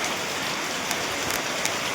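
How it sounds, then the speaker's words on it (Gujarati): Steady rain falls on nearby surfaces in an even, close patter with a few sharper drops standing out, and nobody speaks. "શું મસ્ત વરસાદ"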